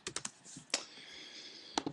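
Computer keyboard typing into a text box in Open Office Writer, with a quick run of crisp key taps, a pause, then a couple more taps, all close and fairly quiet.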